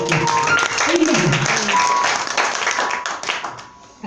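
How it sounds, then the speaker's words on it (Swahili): A church congregation clapping during worship, a dense patter of many hands in a reverberant hall, fairly loud and continuous before easing off, with voices over it. "If you want to clap."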